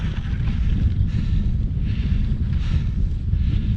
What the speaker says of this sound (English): Wind is up.